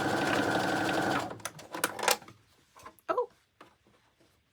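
A sewing machine runs a short burst of stitching over a tote bag strap, whirring loudly for about a second before stopping, followed by faint clicks and handling taps.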